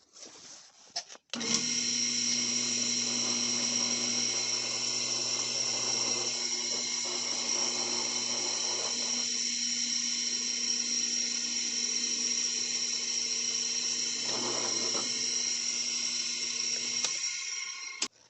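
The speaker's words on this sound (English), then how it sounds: "We're going to be using a 19/64 and to drill the rest of the way through." A power drill with a 19/64 drill bit drives the rest of the way through a workpiece, a steady high whine running loud and unbroken for about sixteen seconds, starting abruptly and cutting off near the end.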